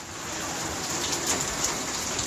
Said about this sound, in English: A Queensland homeowner showed the damage a freak hailstorm did to their home in just 10 minutes.